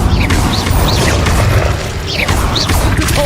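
Incendio fire spell effects from the Hogwarts Legacy video game, casting repeatedly with whooshing bursts over a dense, loud magical rumble and crackle, with brief rising tonal swishes throughout.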